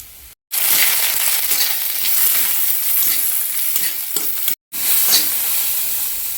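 Tomato and green chilli frying in a pan, a steady loud sizzle broken by two short silent gaps, with occasional stirring scrapes and no voices.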